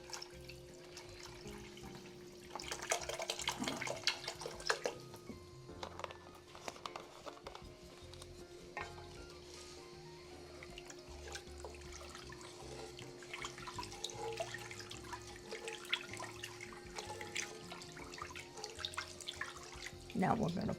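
Chicken stock is poured into a soup pot for sweet potato and ham soup, about five cups, giving a steady splashing, liquid pour that runs nearly the whole time at a moderate level.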